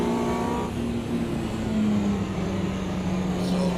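Mini Cooper race car lapping Brands Hatch in Automobilista 2, a steady droning engine note at part throttle through a turn, holding fairly even with a slight rise near the end.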